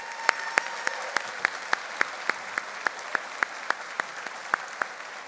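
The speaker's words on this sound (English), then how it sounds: "How about one more round of applause?" An audience at a spring graduation convocation applauding, continuous clapping from a large room with one prominent, regular clap repeating close by over the steady crowd wash.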